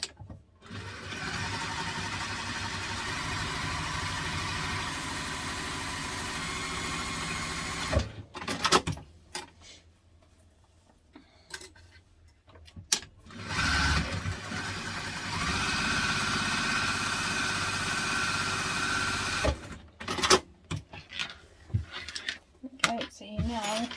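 A sewing machine top stitching a teddy backpack runs in steady mechanical bursts, a long continuous stretch, then pauses with handling noises, then another run; a voice talks softly in between.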